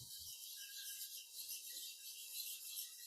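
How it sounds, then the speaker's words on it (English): A flat hone rubs back and forth across the bevel of a woodturning lathe tool, giving a steady, close, continuous rasping scrape with gentle stroke-to-stroke swells and no voices. "just use a flat hone here, and you can just run that across the top to take off what was left of the previous bevel"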